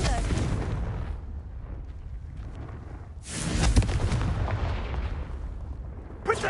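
A Confringo spell blast in the video game Hogwarts Legacy, a deep rumbling fiery burst that swells midway into a heavy explosive roar, followed by a sharp crack at the end over low game ambience.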